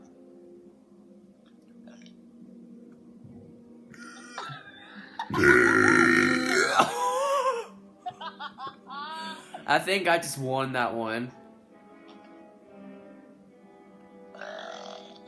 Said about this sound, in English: I think I got another burp.